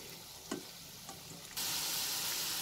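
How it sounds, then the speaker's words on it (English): Potato pakoras fry over a medium flame in hot oil, starting with soft bubbling and light clicks, then a sudden loud, steady hiss of sizzling in the second half. "hot oil, we will cook them so that they can become nice and crispy over a medium flame"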